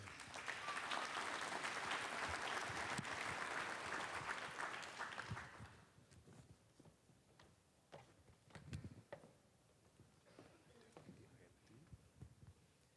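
An audience at a school event claps loudly for about six seconds, then the applause dies away into scattered claps and room noise.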